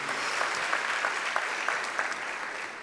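Congregation at a church conference applauding: dense, steady clapping from a large crowd, sustained throughout with a few sharper individual claps standing out.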